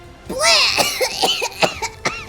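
Several harsh, wet coughs close up, broken by strained retching and gagging sounds, coming in quick uneven bursts from a voice actor imitating coughing in an audio drama.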